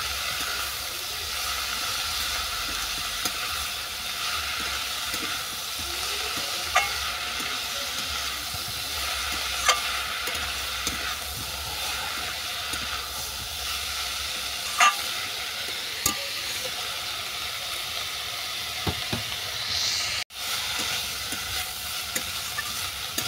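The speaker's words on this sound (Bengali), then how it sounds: "লাল শাকটা সবজির সঙ্গে বা মশলার সঙ্গে ভালো করে কষিয়ে নেব।" Red amaranth greens stir-fried with vegetables and spices in a pan, a continuous loud sizzle and hiss with occasional spatula clicks and scrapes over a long stretch.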